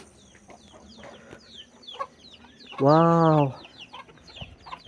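At a chicken coop beside a hillside viewpoint cafe, chickens cluck and fowl calls sound among scattered bird chirps, with one loud, drawn-out cry near the middle and a brief spoken exclamation.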